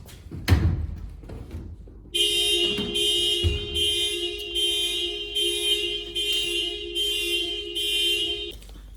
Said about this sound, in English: Set off my car alarm.